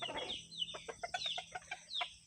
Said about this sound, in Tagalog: Dito siyang manok daw.